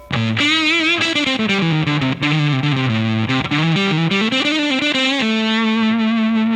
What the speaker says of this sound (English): you can get some gnarly, awesome sounding fuzzes